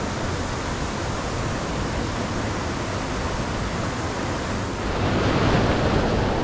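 Constant roaring rush of falling water from a waterfall heard from just above it, broad and unbroken, close and loud, swelling slightly toward the end with no voices.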